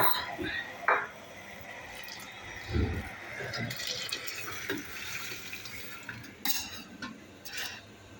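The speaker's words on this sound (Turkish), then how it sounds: "Şimdi pilavın suyunu da ekliyoruz." Water poured into bulgur pilaf in a cooking pot, a soft splashing pour with faint clinks of cookware while a voice speaks quietly over it.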